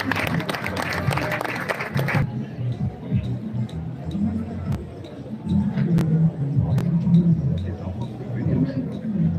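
Funeral congregation at a church service for Papa Léon applauding to acclaim the Lord, a broad crowd of clapping and murmuring voices that swells and continues throughout, fairly loud and close, with scattered chatter underneath.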